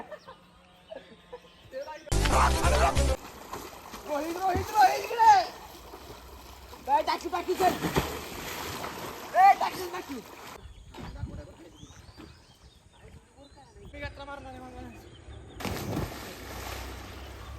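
People jump one by one into a river, each plunge a loud, brief splash of water, with the first near the start and another at the end, while people chat and call out in between.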